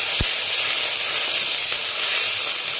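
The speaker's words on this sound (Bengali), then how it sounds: "আমি লঙ্কা বাটা দিলাম, আদা বাটা, জিরা ধনিয়া বাটা, মশলাটা ভাজবো।" A paste of ground chili, ginger, cumin and coriander fries in a hot pan for a fish dish, giving a loud, steady, close sizzle and hiss throughout with no talking.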